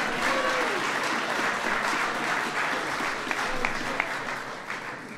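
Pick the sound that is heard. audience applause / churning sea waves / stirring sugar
audience applause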